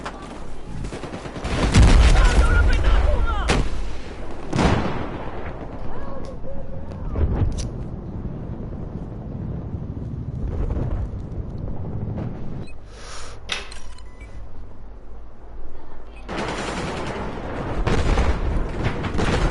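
Rumbling booms and bursts of gunfire from a tank battle in a shooting video game, dense and loud with heavy low-end blasts, continuing under occasional speech.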